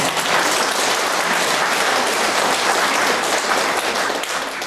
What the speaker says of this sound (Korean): 이분들한테 박수 부탁합니다.